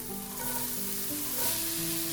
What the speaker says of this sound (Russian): Отправляем лук на разогретую сковородку